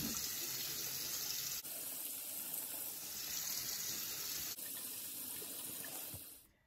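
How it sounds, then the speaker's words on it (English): A bathroom sink tap runs steadily while a face is washed with foaming cleanser, a close, continuous hiss and splash broken by two brief dips before the flow fades out at the end, with no talk. "you're going to wash your face with a cleanser of your choice"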